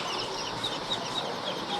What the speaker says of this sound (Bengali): এখানে কিছু মুরগির বাচ্চা রয়েছে